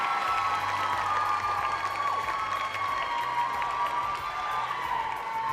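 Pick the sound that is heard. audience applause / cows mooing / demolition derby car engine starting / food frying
audience applause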